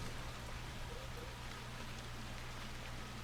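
Heavy rain in the video game Dragon Age Inquisition pours down as a dense, continuous hiss of falling water with a low steady rumble beneath, even and unbroken throughout.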